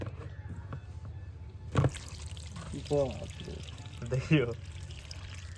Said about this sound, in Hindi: पेट्रोल से ज्यादा पानी बह रहा है